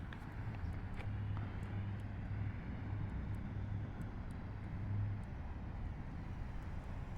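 A 400mm RC plane flies at just under half throttle, its small motor a faint, steady buzzing drone with slight rises and dips, heard from a distance outdoors.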